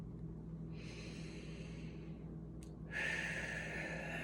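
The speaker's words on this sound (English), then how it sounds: "take a nice cleansing inhale through your nose" A calm nasal inhale taken during a guided relaxation exercise, heard as soft airy breath noise that swells gradually and then shifts into a stronger, brighter rush of air near the end, close and alone with no talking.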